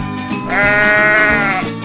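A single sheep gives a loud, close, drawn-out bleat with a wavering tone, holding for about a second before it tails off.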